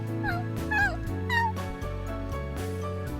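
A cartoonish dog in the visual novel game Da Capo II yips and whimpers in short, rising and falling cries over steady background music, with no talk.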